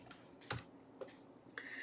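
Quiet, irregular clicks of keys on a computer keyboard, a few separate presses spread over about two seconds, close but faint against a low background hiss.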